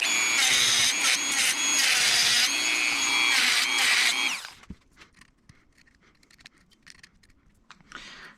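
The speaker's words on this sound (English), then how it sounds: "So I'm gonna cut that a little bit more here." A loud, close power tool grinds and cuts into a Toyota MR2 SMT sensor for about four seconds, then stops abruptly, leaving quiet clicks and small handling taps.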